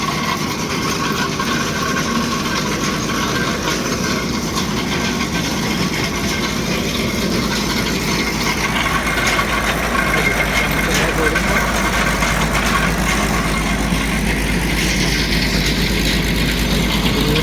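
Heavy engine idling at a construction work site in a park where boarding is being put up, a loud, steady low rumble with mechanical clatter, while someone talks over it throughout.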